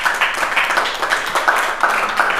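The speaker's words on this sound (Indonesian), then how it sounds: "tepuk tangan buat beliau" An audience at a talk claps steadily for the speaker being introduced, a dense, continuous wash of applause with no voices over it.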